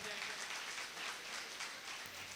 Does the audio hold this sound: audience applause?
yes